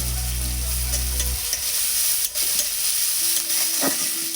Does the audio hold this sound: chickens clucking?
no